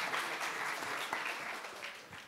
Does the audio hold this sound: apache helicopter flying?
no